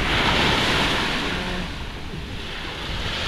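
Sea waves wash steadily onto a beach lined with sunbeds, a continuous broadband surf roar that swells slightly at the start and stays close and even throughout, with no voices.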